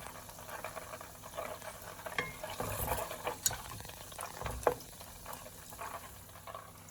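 Butter bubbling in a pan on the stove while being cooked down into ghee, a quiet continuous crackle and sizzle with small pops, close and steady with no talking.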